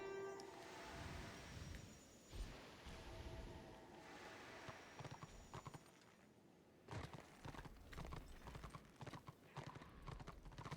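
Rhythmic clip-clop of horse hooves trotting in the video game Warhammer Online: Return of Reckoning, fairly close, with a brief lull midway before the hoofbeats pick up again; no talking.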